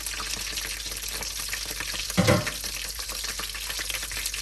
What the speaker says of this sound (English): now I'm going to melt butter in my slow cooker on saute mode